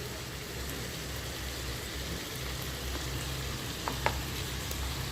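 Green chillies and capsicum frying in a pan for mutton korma, giving a constant dense sizzle with a low hum underneath and a couple of faint clicks, no voices.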